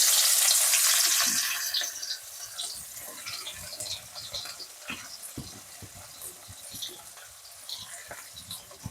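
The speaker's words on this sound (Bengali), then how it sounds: "পেঁয়াজটাকে একটু ভেজে নেব" Onions frying in hot oil left over from frying fish for a Bengali jackfruit and fish-head dish, a loud initial sizzle settling into steady crackling with scattered stirring clicks, no talk.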